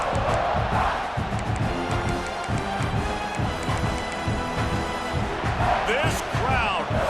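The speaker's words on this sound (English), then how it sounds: "This crowd, full throat, spreading the eardrums" A full-throated football stadium crowd roars steadily throughout at a high school game, loud and dense with shouting voices, swelling again near the end.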